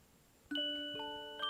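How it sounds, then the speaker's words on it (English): Chime-like bells ring in the Dice Psycho video game, with three clear tones struck in sequence that sustain and overlap, moderately loud over a faint airy background. "I can hear the sound of the wind and bells as well."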